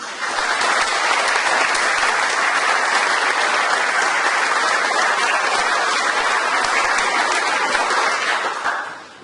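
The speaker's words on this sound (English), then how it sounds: "I think they deserve a round of applause" Sustained, dense applause from an audience at a college awards ceremony honouring students in furniture and cabinet making, loud and steady throughout before fading abruptly at the end.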